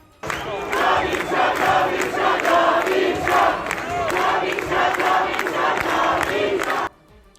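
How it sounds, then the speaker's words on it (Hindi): Crowd of protesters in Tehran chanting slogans in support of Reza Pahlavi, loud rhythmic massed voices repeating in regular beats for several seconds before cutting off abruptly. "तेहरान में प्रदर्शन के दौरान लोगों की भीड़ रिजा पहलवी के समर्थन में नारेबाजी करती दिखी।"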